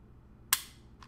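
A single sharp shot from a Springfield XD-M 3.8 9mm pistol cracks loudly and close, the round striking a wall, followed by a brief fainter impact or echo a half second later.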